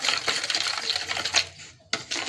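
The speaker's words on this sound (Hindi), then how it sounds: "अब इसको अच्छे से मिक्स करेंगे हम।" Yeast, oil and water for pizza dough are stirred together in a bowl, making steady wet sloshing and scraping close by, with a brief pause before the mixing resumes.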